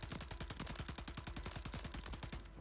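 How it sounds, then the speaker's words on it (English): Friendly mortar strike in Call of Duty Warzone on Rebirth Island: a rapid, evenly spaced string of loud, booming impacts and gunfire, about twenty hits over two and a half seconds, dense and continuous with no talking. "Friendly mortar strike."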